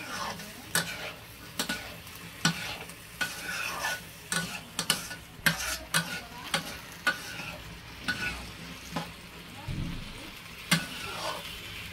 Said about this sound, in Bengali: জগাইটা দিয়ে তোমাদেরকে একটু নাড়ি করে দেখাচ্ছি কিরকম হয়।